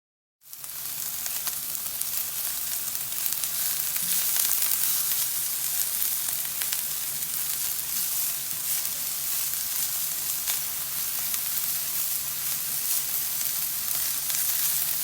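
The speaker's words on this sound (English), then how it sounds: "the first thing I want to do is saute my bell peppers and my onions before I add the meat in" Bell peppers and onions sauté in olive oil in a pan on the stove for a Philly cheesesteak egg roll filling, a loud, steady, close sizzle running unbroken throughout with no voices.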